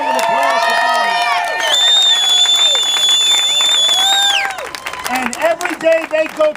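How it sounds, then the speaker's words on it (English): A crowd at a rally for Walmart workers claps and cheers, with high whooping shouts and sustained yells over the clapping that thin into scattered voices toward the end. "They deserve a huge round of applause for being here."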